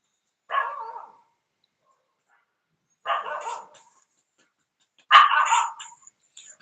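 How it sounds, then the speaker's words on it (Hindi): A dog barks three times in separate short bursts spaced a couple of seconds apart, fairly close and clear against a silent background. "आएगा कुत्ता की आवाज आएगी।"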